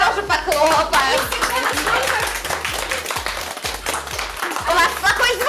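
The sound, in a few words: audience applauding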